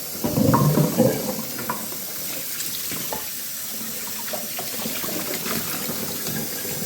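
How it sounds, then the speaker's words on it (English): Rib meat for a braised stew is rinsed under a running kitchen tap, water gushing and splashing loudly at first, then settling into a steady close stream with small splatters. "I'm actually going to rinse this one."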